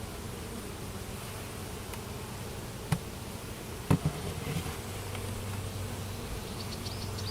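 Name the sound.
bees buzzing at an inspected hive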